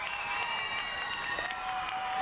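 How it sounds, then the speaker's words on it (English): Fans at a middle school boys basketball championship game in Avenel cheer and applaud in a loud, sustained wash of crowd noise, with scattered claps and shouts and no pause throughout. "This Avenel crowd deafening."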